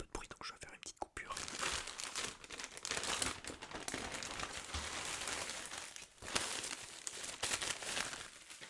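Thin plastic packaging crinkles and rustles almost continuously while it is peeled off a 2024-2025 Borussia Dortmund home football jersey, loud and close, with a few sharper tearing bursts.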